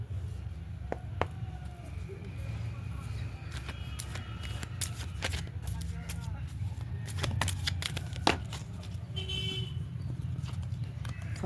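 Tarot cards are shuffled in the hands, giving sharp, uneven riffles and flicks over a low steady background hum, fairly near and moderately loud, with no one speaking.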